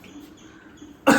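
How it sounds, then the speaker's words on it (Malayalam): A single sharp cough bursts out near the end, loud and close, after a stretch of quiet room sound in a home kitchen where onions are being prepared for a village-style fish curry. "ചുമച്ച് ചാവുന്നു തോന്നുന്നു."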